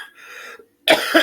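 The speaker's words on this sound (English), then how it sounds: "Excuse me, I have a cough." A single sharp, loud cough bursts out after a brief moment of quiet, close to the listener.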